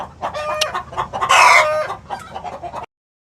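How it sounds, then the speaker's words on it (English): Chickens outdoors cluck and squawk in quick, irregular bursts close by, with one louder crowing-like call in the middle and light wind noise underneath before it cuts to silence. "we got our wonderful chickens right here"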